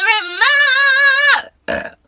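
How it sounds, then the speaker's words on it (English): A long, loud, close human burp rolls out with a strongly pitched, sustained tone for over a second, followed after a short pause by a second, briefer and rougher burp. "I'm still burping. Can you believe it?"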